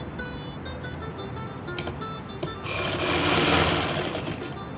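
Sewing machine stitching the hem of a polyester bed sheet, a rapid mechanical whirring chatter that speeds up and grows louder partway through, close and continuous.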